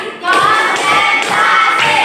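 Several sharp hand claps from a classroom group counting aloud, spaced roughly every half second, loud and close over a bright roomy background with voices.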